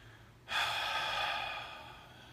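A single deep breath drawn in sharply through the nose and mouth, a close, soft rush of air that starts abruptly and slowly fades.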